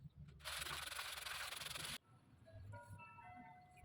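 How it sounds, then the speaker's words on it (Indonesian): A radio cabinet box from a Panasonic RL-4249MK3 being restored is sanded in one steady, close rubbing stroke lasting about a second and a half, which stops abruptly, leaving faint background tones. "Sebelumnya ya kita amplas dulu"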